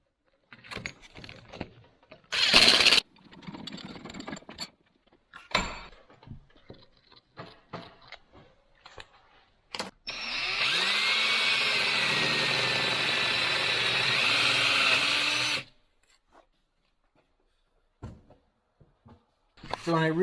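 A power drill driving screws to mount shop hardware, a sustained whirring run lasting several seconds amid scattered handling clatter and short bursts of noise, close and fairly loud.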